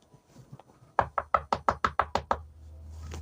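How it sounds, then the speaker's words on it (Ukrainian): Nine sharp, evenly spaced knocks on a Minecraft villager's door ring out close and clear, followed by a low hum. "Тук-тук-тук, відкривай двері житель."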